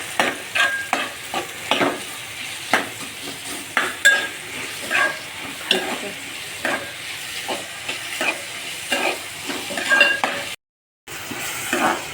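Green chillies and curry leaves sizzle in hot oil in a pan for egg bhurji. A steady frying hiss runs throughout, broken by regular clinks and scrapes of a spoon stirring against the pan, close up, with no talk.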